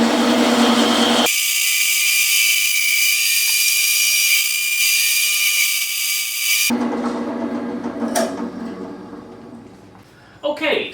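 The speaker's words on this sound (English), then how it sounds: "That's the place where the bandsaw is going to try and drift, the blade is going to try and wobble" A bandsaw cuts slowly through a solid cherry soprano ukulele neck blank, a steady broadband buzz that holds for several seconds and then drops away into quieter workshop noise with scattered clicks.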